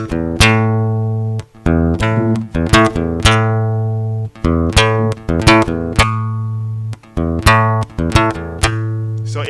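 An acoustic-style guitar strum rhythm alternates a single picked strum with a percussive thumb hit, repeating in a steady looping beat of ringing chords and muted slaps, close up with no talk.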